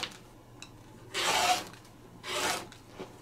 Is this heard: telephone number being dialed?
no